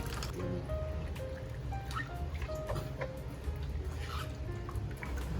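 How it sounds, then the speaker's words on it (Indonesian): Water runs and drips while a muddy shoe's outsole and midsole are rinsed during wet cleaning, a steady trickling splash with irregular drips and no talk. "udah kita sikat secara merata, langsung kita bilas saja"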